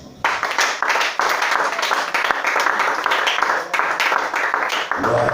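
Church congregation applauding during a lively worship service, a dense sustained wash of clapping and cheering voices filling the room for several seconds before thinning out at the end.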